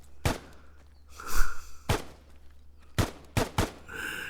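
Gunfire in the video game Limbo Revolution: about six sharp, loud shots fired singly and in quick pairs with short pauses, some followed by brief rustling effects, and no speech.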